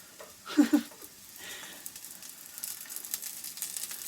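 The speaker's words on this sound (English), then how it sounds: "We're cooking potatoes. Making french fries." Potatoes for french fries sizzle in a pan, with a few louder pops and clatters early on and then a steady, moderate frying crackle, heard alone without talk.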